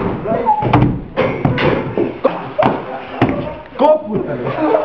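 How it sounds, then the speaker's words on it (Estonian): Hard knocks and thumps on a door repeat irregularly, loud and close, mixed with agitated shouting voices over the top. "Koputame!"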